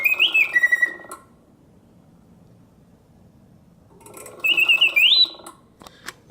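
Vintage Karl Griesbaum mechanical singing bird cage, giving loud, close warbling whistles with rising and falling notes. The song stops, a quiet pause follows, and then the song resumes, ending with a few soft mechanical clicks.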